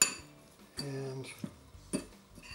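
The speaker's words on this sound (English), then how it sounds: "you're just going to want to mix it up so that it's it kind of hangs together a little bit" A spoon clinks and scrapes against a bowl while mixing meatloaf ingredients moistened with almond milk, giving a few distinct taps and rattles spaced irregularly at close range, fairly quiet.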